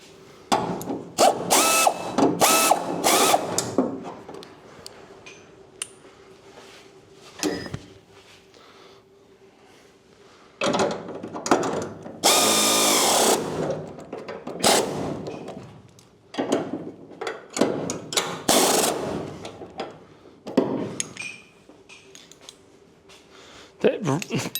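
An air ratchet wrench works on a 1968–1974 Chevrolet Nova in short loud bursts of rapid clattering, separated by pauses, with someone talking between the runs.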